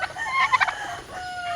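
Farm chickens crow and cluck close by, a short burst of sharp clucks followed by a drawn-out crowing call.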